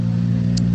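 A rally car at the stage stop line just past the timing table idles and creeps to a halt, a steady close engine rumble with no voices.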